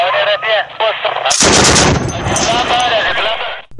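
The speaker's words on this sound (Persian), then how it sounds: "همیشه صدای توپ، تیاره و گلوله ها را می شنوند" Battle noise in Kunduz, Afghanistan: rapid bursts of gunfire and a heavy artillery blast erupt loudly, with a voice speaking over a radio-like channel before the explosion.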